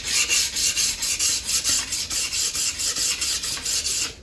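The back of an old, rusty pruner blade is lapped flat on a 2000-grit stone: a close, continuous run of quick, even back-and-forth scraping strokes, about four per second, with no voices.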